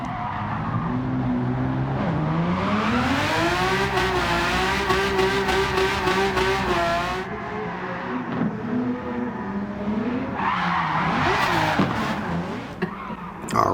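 In Gran Turismo 7, a 1991 Ferrari Testarossa drift build revs hard while doing burnouts, its engine note rising and falling in long sweeps under continuous tire squeal, loud and close throughout.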